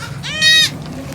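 A newborn Beetal goat kid on a farm gives one short, close, nasal bleat, rising and then falling, over faint background noise.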